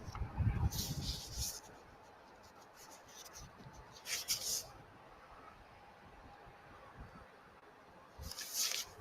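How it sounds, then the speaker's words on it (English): Paper note cards being flipped through, soft rustling and riffling in three short bursts over a low steady background hum, fairly quiet. "I'm going through my note cards now."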